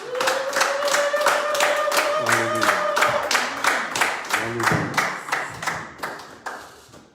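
A church congregation at a French-language worship service claps in a steady, regular beat, sharp rhythmic hand claps ringing through the room while a voice sings and calls out over them.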